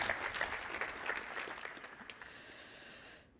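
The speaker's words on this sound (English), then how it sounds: "Big applause for the ladies." Applause for the ladies' team at a 5G AR hackathon final, a lively burst of claps that gradually fades over about three seconds and then stops abruptly.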